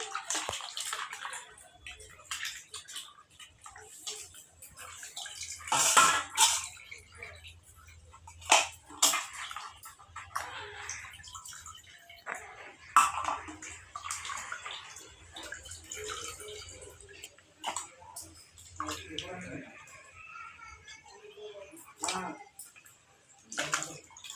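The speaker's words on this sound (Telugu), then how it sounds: "ఇప్పుడైతే మటన్ కడిగేస్తున్నా" Raw mutton being rinsed under running water in a home kitchen for Sunday mutton curry, with uneven splashing, dripping and occasional sharp clinks of a vessel, moderately close.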